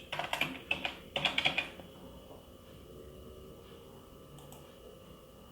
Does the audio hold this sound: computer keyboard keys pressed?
yes